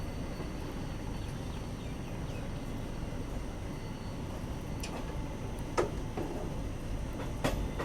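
Express passenger train of ICF coaches running at speed on the Kalaburagi–Guntakal line in India, a steady low rumble with faint ticking and a couple of sharp clicks near the end, no talk.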